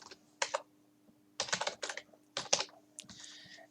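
Typing on a computer keyboard while entering text in MS Word, heard as several short close bursts of key clicks separated by brief pauses, with no talking.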